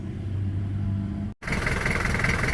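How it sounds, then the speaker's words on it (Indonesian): Daihatsu Taft GT F70 engine idling at low RPM, a steady low rumble close by that cuts out briefly and returns with a harsher, brighter running tone. "sudah nyala mesinnya, RPM nya kecil banget"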